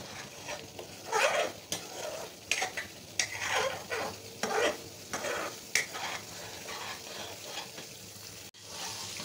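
Cream simmering in a pot while being made into homemade ghee, a soft bubbling sizzle with intermittent stirring and scraping of a spoon against the pot, fairly close.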